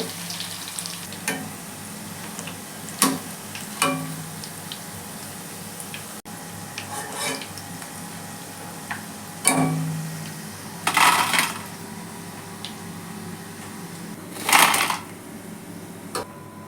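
Marinated meal maker soy chunks dropped into hot oil for deep frying, a steady crackling sizzle with louder bubbling bursts as more pieces go in, close and without talk.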